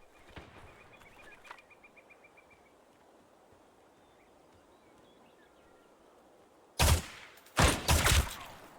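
Quiet ambient background in a video game with faint distant pops, then a few loud, sharp bursts of gunfire near the end.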